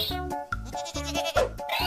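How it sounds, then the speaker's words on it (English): A cartoon-style goat bleat sounds as a short wavering series of nasal bleats, loud and close, alone with no talk. "Goat."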